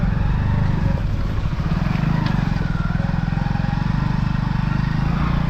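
Motorcycle riding along a tree-lined village road, a steady, close engine drone with rhythmic pulsing throughout and no pauses.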